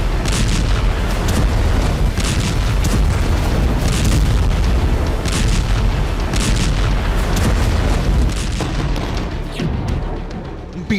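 Hamas rocket attack explosions over Ashkelon, Israel: dense, continuous, loud rumbling booms and blasts overlap without pause, fading slightly at the end.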